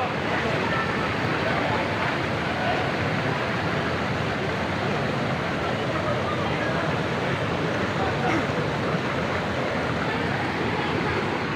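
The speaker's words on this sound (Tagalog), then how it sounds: "andito tayo sa kanilang ilog. Tayo ay nagbabalsa." Steady rushing water from a river while bamboo rafting at Villa Escudero in Tiaong, Quezon, a broad continuous wash with some wind buffeting the microphone, constant and fairly loud throughout.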